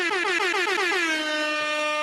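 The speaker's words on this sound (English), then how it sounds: "Yeah, never enough air horns." Several quick, loud air horn blasts ring out in a rapid series, ending in one long sustained blare.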